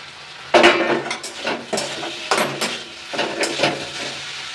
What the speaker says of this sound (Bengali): আমি আবার একটু ঢাকা দিয়ে দেব, আবার আমি ঢাকাটা খুলে নেব